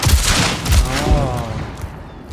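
Shotgun blasts in a hunting video game, several booming shots about every half second over the first second or so, with a ringing tail and players talking in between.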